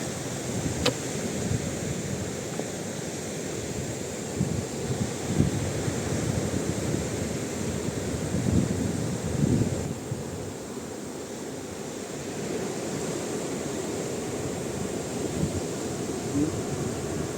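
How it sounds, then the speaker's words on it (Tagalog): A continuous roar of surf washes through the whole stretch, steady and broad, with wind rumbling against the microphone. "Nakikita niya lalaki ng alon."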